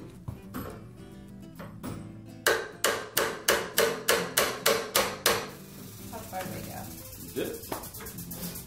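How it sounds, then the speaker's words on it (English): The hard side of a hammer strikes a punch while building out a Ballistic Advantage Hanson rifle barrel, landing about a dozen sharp, evenly spaced metallic blows in a quick run, close and loud, with some workshop handling noise before and after. "Take your trusty hammer."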